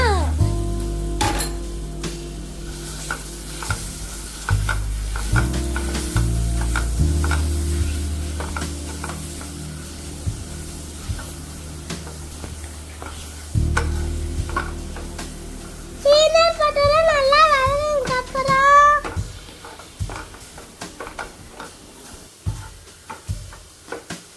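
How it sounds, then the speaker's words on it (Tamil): Stirring and sautéing in a pan while making a dry fruit and nut laddu, with a continuous sizzle, frequent spatula scrapes and taps, a low hum underneath, and a voice briefly rising partway through. "இது நல்லா வதக்கணும் பின்னால் பட்டல் போட்டுக்கணும் போட்டு நல்லா வதக்கணும்"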